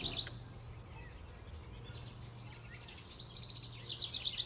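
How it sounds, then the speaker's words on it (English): Wrens chirp and trill in high bright bursts outdoors, fairly faint and distant, with a flurry at the start and a livelier run of calls near the end over a low steady hum. "The wrens are just going crazy right now."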